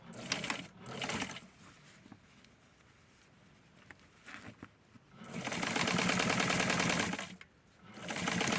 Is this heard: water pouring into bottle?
no